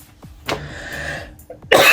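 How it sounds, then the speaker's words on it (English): A person coughs in several short, harsh bursts close to the microphone, with small gaps between them and a stronger cough at the end. "See, I still have that cough."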